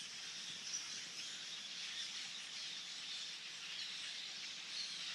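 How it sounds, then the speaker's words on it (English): Hundreds of blackbirds with bluish wings call from backyard trees at a migration stopover, a dense, continuous high chattering chorus heard at a distance, steady and fairly faint, with no talking. "But can you hear all the blackbirds out there?"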